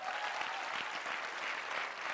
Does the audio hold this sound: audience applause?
yes